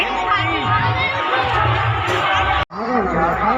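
A large, dense crowd gathered for the Budha Mahadev chariot procession in Kawardha, with loud continuous chatter and shouting nearby and a brief dropout partway through, while people talk over the noise.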